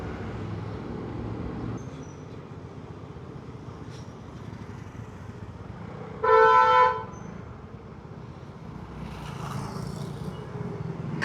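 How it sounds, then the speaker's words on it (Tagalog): A tricycle horn honks once from close behind, loud and about a second long, over steady street traffic noise. "Nagulat ata yung tricycle sa likod ko. Gagalit siya. Lakas naman kasi ng busina."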